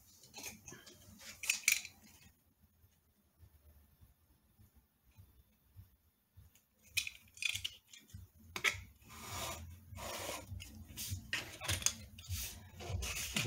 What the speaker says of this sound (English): you want to cut off, you know, the excess, you know, backing paper so that it looks nice